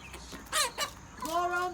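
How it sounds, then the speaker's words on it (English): Chickens cluck on a homestead, a few short close calls followed by a longer, drawn-out squawk, with faint background noise and no talk. "I'm here about the chickens right now. This is a chicken video."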